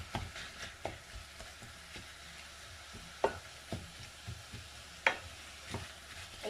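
Onion and spices softening in a little oil in a pan for a savory crêpe filling, a faint low sizzle broken by occasional clear taps and scrapes of a utensil stirring against the pan.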